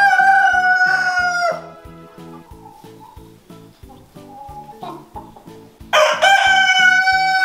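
A rooster crows loudly up close among hens, then crows again after a pause, over a steady rhythmic mechanical pulsing in the background.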